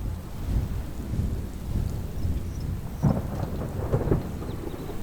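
Steady rain hisses while deep thunder rumbles and rolls continuously, swelling a little toward the end, with no voices.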